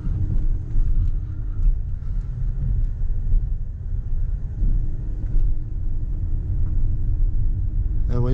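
A Scania truck's diesel engine rumbles steadily and loudly at close range, a continuous low drone that holds through the whole stretch with no speech.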